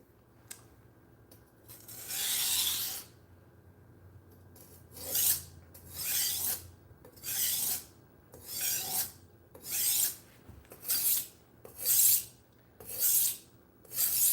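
A budget knife is drawn across a fine-grit whetstone in about nine rhythmic, gritty rasping strokes. Each stroke is distinct, close and clear against a quiet background.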